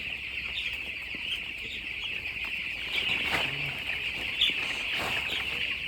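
Broiler chickens about nine days old move about inside a poultry shed, with a steady dense chorus of high cheeping and occasional wing flutters, close and continuous.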